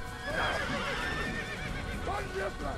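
A horse neighs in the Assassin's Creed video game, a couple of short whinnies rising over game noise, with someone talking throughout.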